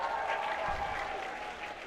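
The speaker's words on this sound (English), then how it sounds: "Give yourselves a round of applause." A crowd at a Birds Aren't Real gathering applauds, a continuous wash of clapping heard somewhat distantly and softly, steady throughout with no voices standing out.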